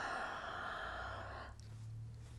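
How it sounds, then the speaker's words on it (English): Long breathy exhale of moist breath over a rubber stamp's ink pad, a soft steady airy hiss close to the microphone that fades partway through. "we're going to reactivate the ink by breathing moist air over the surface of the ink"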